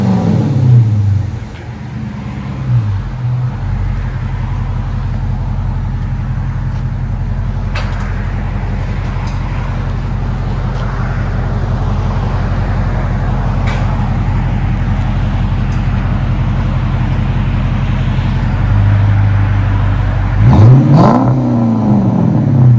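A 2012 Dodge Charger RT with a 5.7L HEMI and a dual Flowmaster Flow FX exhaust, its resonators removed, idles with a deep steady rumble for about twenty seconds. It ends with a single sharp rev that climbs and falls away. No one speaks.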